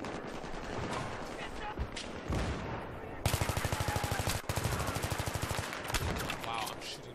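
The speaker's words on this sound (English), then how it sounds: "Wow, I'm shooting the dude first." Loud gunfire from the video game Battlefield 3: a rapid automatic burst of closely spaced shots fills the middle of the clip, with a few heavier single shots, over busy in-game noise and a player talking.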